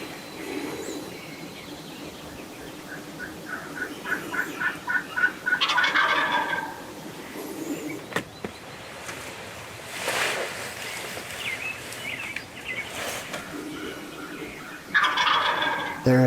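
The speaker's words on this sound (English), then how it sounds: "these two big eastern Iowa longbeards are committed and about to put on a show" Two wild eastern turkey longbeards in Iowa gobble in loud bursts around the middle and end, with softer rapid clucking and yelping between them, outdoors with an open ambient hiss.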